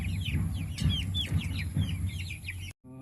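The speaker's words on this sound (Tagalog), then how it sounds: "malakas kumain itong mga alaga nating manok" Several farm chickens cluck close by at feeding time in a busy, overlapping chorus, with sharp higher chirps scattered throughout before a brief cut near the end.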